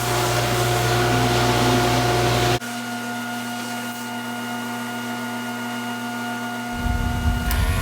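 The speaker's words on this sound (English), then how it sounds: "here I am feeding everything through the belt sander, getting some of that excess resin off, just getting everything nice and flat" A belt sander grinds excess epoxy resin off a cedar serving tray, a loud steady machine whine that drops sharply partway through and then swells again near the end, with no talk.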